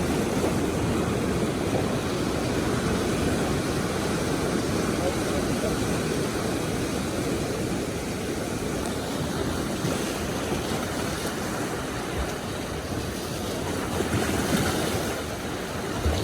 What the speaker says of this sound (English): I'm gonna leave you with beautiful Pacific Ocean.